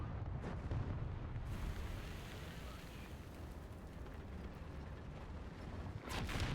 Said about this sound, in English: Good sir, I fired my mortars.